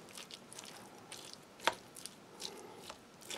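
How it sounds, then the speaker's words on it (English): Stirring a congealed, cold salmon dish with big chunks of fish, giving soft wet squelching and scraping with one sharper clack near the middle, fairly close and quiet. "it might have been a mistake to have cold let's just give this a bit of a mix up"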